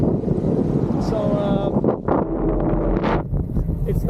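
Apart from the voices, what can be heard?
strong headwind blowing while cycling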